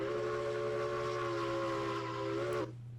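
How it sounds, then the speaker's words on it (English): Steam locomotive whistle in the video game Railroads Online: a loud, sustained multi-chime tone holding steady for about two and a half seconds, then cutting off abruptly, leaving quieter hiss and a low hum. "Let's see what our whistle sounds like."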